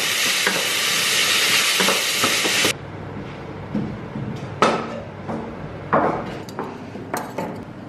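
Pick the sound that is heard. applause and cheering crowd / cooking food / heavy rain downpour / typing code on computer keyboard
cooking food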